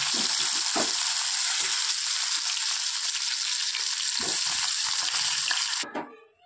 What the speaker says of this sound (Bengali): এইভাবে আমি এক এক করে মাছগুলো সব ভেজে নেব।